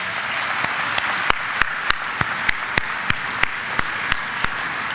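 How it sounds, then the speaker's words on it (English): A school assembly applauds its departing seniors with broad, sustained clapping from a large crowd, punctuated by sharp, regularly spaced individual claps that cut through the steady wash. "Can we give them one last round of applause?"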